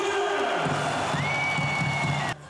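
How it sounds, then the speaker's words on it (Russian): Hockey fans in an ice arena cheering and applauding as legendary players come out, a dense roaring crowd with whistles and whoops that cuts off abruptly near the end. "Бурными аплодисментами болельщики встречают игроков"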